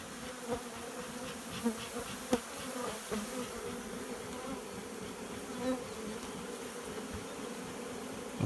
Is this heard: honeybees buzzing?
yes